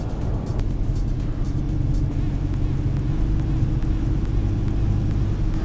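New Nissan Caravan diesel van pulling away under acceleration, heard from inside as a steady low engine rumble and drone with road noise, no talking.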